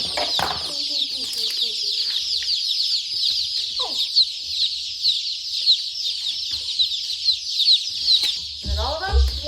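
A dense chorus of high-pitched cheeping from many newly hatched black sex link and amber link chicks runs continuously, with a few low voices and rustling beneath.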